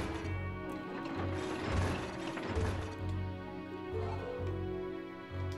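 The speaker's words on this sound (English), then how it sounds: "And away we go on our magical cart ride." A mine-cart ride in the video game Evoland II, steady mechanical rattling and clanking with a regular rhythmic low thump and ratchet-like clicks, continuous and fairly close.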